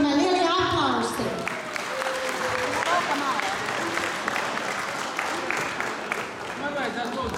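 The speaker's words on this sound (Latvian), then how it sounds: "Pilnīgi visi, es domāju, lielie aplausi." Audience applause at a motorsport club's season-closing awards ball, a steady wash of clapping that carries on throughout while voices talk over it.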